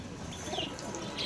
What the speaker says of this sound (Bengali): দেখো মাদা পায়রা রয়েছে